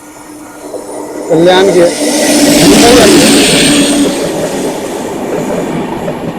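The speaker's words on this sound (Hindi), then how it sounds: "सिकंदराबाद से दानापुर चलती है ये।" An Indian Railways Danapur Express passenger train rolls past close and loud, with a steady rumble of wheels, rail clatter and high squealing, while someone speaks briefly over it.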